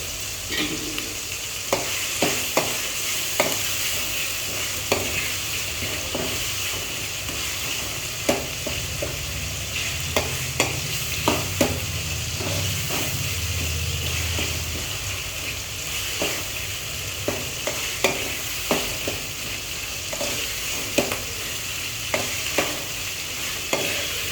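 Tomatoes and curry leaves fry in a hot pan for a village-style bitter gourd curry, with a steady sizzle under repeated sharp scrapes and taps of a stirring spoon spaced through the clip, no voices.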